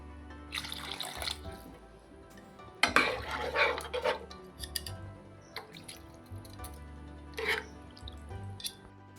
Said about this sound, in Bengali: যেহেতু আমরা রুটি পরোটার সঙ্গে খাবো